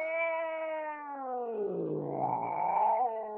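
A sharp, drawn-out cry from a wildcat-like beast, a loud close caterwauling yowl that slides downward, then rises again into a harsher, rougher snarl, heard alone.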